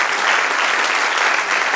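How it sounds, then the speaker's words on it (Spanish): Steady congregation applause fills a church service, a dense, even wash of many hands clapping at close range with no pauses. "Dale un aplauso al Señor."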